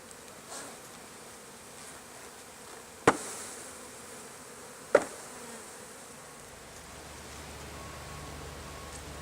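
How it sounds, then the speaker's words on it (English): Bees buzzing inside a wooden birdhouse, a continuous soft drone with two sharp knocks partway through and a low hum entering near the end. "There's so many bees in there."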